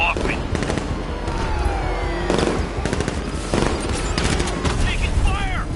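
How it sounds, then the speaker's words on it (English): Bursts of automatic gunfire and shots crackle in a Batman: Arkham Knight firefight, loud and close, coming in repeated volleys with brief gaps, while game voices shout over the shooting. "Taking fire!"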